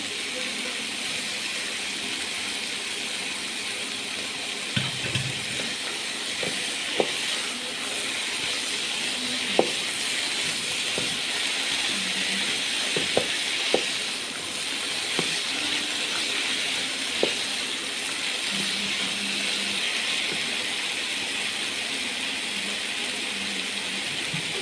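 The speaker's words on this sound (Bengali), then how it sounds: "মশলাগুলো কষিয়ে আমি আলুটা দিয়ে দেবো।" Spices and potatoes sizzle in a frying pan for a samosa filling: a steady, close hiss runs throughout, with a few light utensil clinks and no talk.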